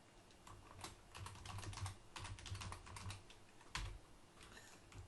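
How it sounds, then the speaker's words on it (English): Typing on a computer keyboard while entering login credentials, a steady run of quiet, close key clicks with brief pauses and no talk. "So what I'm going to do is type in my credentials."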